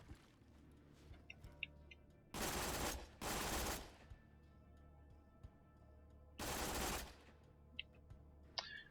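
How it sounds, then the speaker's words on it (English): The Dahl Lascaux submachine gun in Borderlands 2 fires at a wall in three loud, dense bursts of rapid automatic fire, separated by quieter stretches with faint ambient game sounds. "So the Lascaux, I'm going to go out here and shoot a wall"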